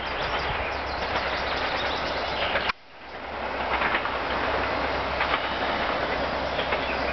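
A train rumbles and clatters over the rails at full speed, wheels knocking and jolting as it crosses a badly worn rail switch, with a brief sudden dip in the noise partway through.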